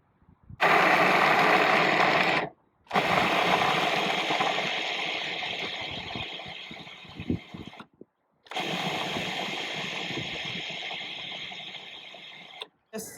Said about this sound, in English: This is a lot of chickpeas for one batch of food processor.